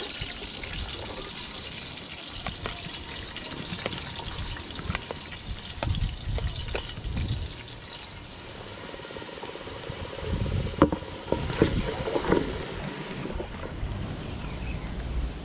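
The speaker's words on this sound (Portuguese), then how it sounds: "Começar adicionando, refogando a cebola no óleo." Onion sautéing in oil in a pan over a wood fire, a steady close sizzle and crackle with occasional stirring scrapes and clatters, and no talking.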